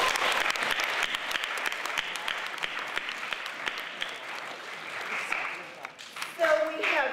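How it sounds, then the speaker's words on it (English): An audience claps together in a sustained round of applause, steady and fairly close, tapering off near the end as a voice begins to speak. "I want to give everybody a round of applause for getting home safely and for being safe"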